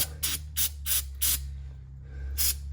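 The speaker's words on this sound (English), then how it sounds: "Don't want to hurt it spraying chemicals on it" Five short hissing bursts of aerosol brake cleaner, evenly spaced with a pause before the last, close up over a steady low engine-like hum, during rear differential service on a Subaru Impreza with manual transmission.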